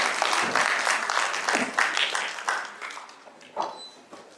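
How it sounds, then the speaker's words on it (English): An audience applauds steadily, a dense wash of clapping that gradually thins and fades toward the end. "Please give a huge round of applause to Professor Dr. Khalid Hussain."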